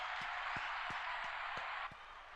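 Canned applause from a soundboard button: an even, hissy stretch of crowd clapping with a few soft low thumps spaced through it. It drops slightly in level near the end and plays without talk.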